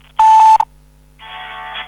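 Two electronic tones: a loud steady beep lasting about half a second, then after a pause a softer, longer tone, like keypad presses on a phone line to a French automated phone-payment service.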